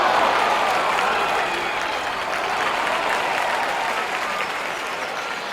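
Crowd applause in the golf video game Action PC Golf 2020 at a 1962 Pensacola Open final round, a steady, loud wash of clapping that holds throughout and fades slightly toward the end, with no talk over it.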